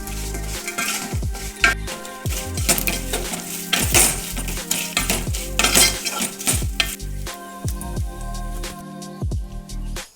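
A spoon scrapes and clanks against a pan while fried beef is stirred for beef pickle, producing repeated metallic knocks and scrapes in an irregular rhythm over a soft sizzle, fairly close, without speech.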